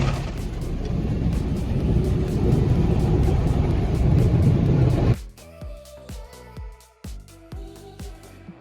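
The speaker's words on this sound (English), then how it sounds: "Getting my car washed for the first time since I had it." A car going through a car wash, heavy continuous spraying rumble for about five seconds that cuts off abruptly, followed by a series of separate knocking and clattering thuds.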